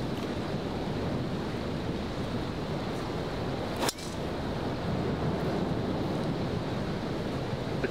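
Atlantic Ocean surf washes beside a golf course in a steady, broad rush, mixed with heavy wind buffeting the microphone and a sharp knock midway, with no talk.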